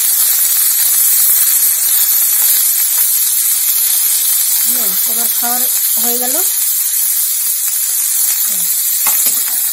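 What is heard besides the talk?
frying chopped beetroot and potato in oil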